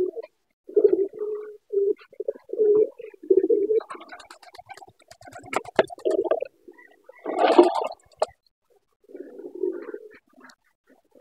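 A pigeon coos nearby in low, repeated throaty bursts, several short phrases spaced by pauses, with some rustling and scuffling mixed in.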